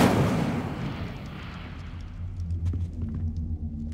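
An Incendio fire spell cast in Hogwarts Legacy, a loud roaring whoosh of flame that starts hard and decays into a low rumble with faint crackles near the end.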